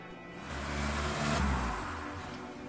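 Animated automated car arriving, a smooth engine swell that builds to a peak and eases off as it pulls up, moderately loud with no talk.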